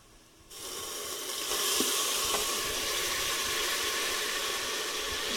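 Barbecue sauce hits a hot Instant Pot on sauté and erupts into a loud, steady sizzle after a brief quiet start, hissing continuously at close range with no talking.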